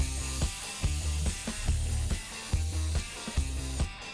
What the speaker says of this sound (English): I'll just take some compressed air, and then I'll just kind of move around the details with my compressed air like this.